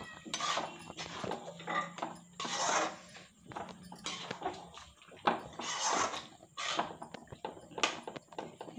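A spoon scrapes and knocks through aloo badi curry of potatoes and sun-dried lentil dumplings with garam masala and coriander leaves in a pan, giving irregular close clinks and scrapes across the whole stretch with no talk.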